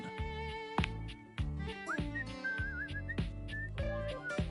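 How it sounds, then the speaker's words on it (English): A character in the video game Date Everything whistles a wavering melody over a looping plucked and percussive game music track, the whistle fairly soft and sliding between notes. "He's whistling when you walk up on him"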